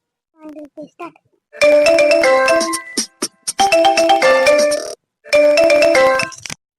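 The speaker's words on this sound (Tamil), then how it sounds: "யாரு ஃபோன் பண்றாங்க" A melodic phone ringtone plays in repeated bursts, loud and close, after a few short spoken sounds.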